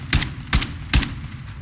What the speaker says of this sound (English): No, it's the gunshots.